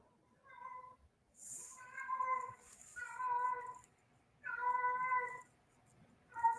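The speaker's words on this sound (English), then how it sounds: "You guys hear this cat? It's like fucking singing." A cat meows in long, drawn-out, almost sung calls, four sustained tonal cries in a row with short gaps, fairly close and clear with no talk over it.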